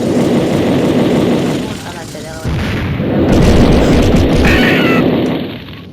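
Bombs explode in a war striker video game, heavy booming blasts and rumbling explosion noise that rise and fall over a few seconds, loud and close, with game effects layered on top.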